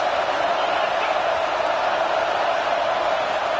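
A stadium crowd at a football game roars steadily, a dense, continuous wash of cheering noise at constant loudness with no breaks, no voices standing out alone.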